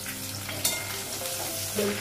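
Whole cumin, cinnamon, small cardamom, green and dried chillies frying in hot oil, giving a steady close sizzle with a brief spatter burst and a stir near the end, no talking.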